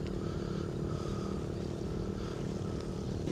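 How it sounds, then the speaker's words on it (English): A steady, loud motor roar fills the roadside in Thailand as motorbikes pass close by, with constant engine rumble and no speech. "It's a bit noisy with bikes coming past every now and then"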